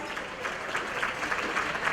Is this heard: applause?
yes